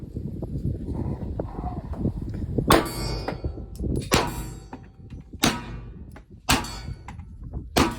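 Springfield 1911DS 9mm handgun fired at a steel target outdoors, five sharp reports spaced about a second apart with a metallic ring after each, over a low rumbling background.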